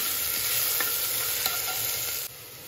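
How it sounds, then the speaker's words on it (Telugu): A mixed vegetable curry with ginger-garlic paste is stirred in a hot pan, giving a steady loud sizzle with soft scraping strokes throughout and a slight drop in level near the end, with no voices. "బాగా కలుపుకోవాలి."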